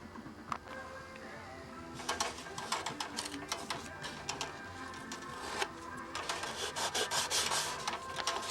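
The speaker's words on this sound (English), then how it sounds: "I'm ready to take the tape off and put a permanent glue seam on there." Tape is peeled off a plywood rib on a model aircraft, giving close, dry, rasping strips of tearing and rubbing noise in irregular bursts, with quieter pauses in between.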